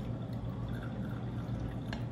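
Coffee is poured slowly into a cup, giving a soft, steady trickle that stays quiet and unbroken for a couple of seconds with no talking.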